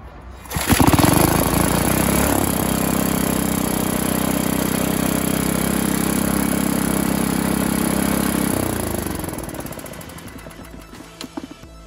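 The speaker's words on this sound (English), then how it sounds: "I got the engine running off its own power" A 1962 Briggs and Stratton small engine catches and runs, a loud, even, rapid chugging clatter that holds steady for several seconds before tapering off near the end.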